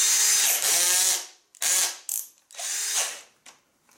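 An AEG BS14 G3 cordless drill-driver whirs in several loud bursts, the motor spinning up, stopping and restarting with brief ratcheting clicks before cutting off into silence.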